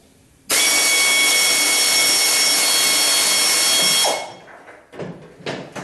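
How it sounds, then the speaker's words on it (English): A power tool removes a bolt from the rear crash bumper of a 1976 Corvette with a loud, sustained whir lasting about three and a half seconds, followed by a few quieter clunks and handling noises. "I'm going to take off this bolt"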